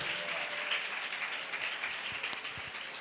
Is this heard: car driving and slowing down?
no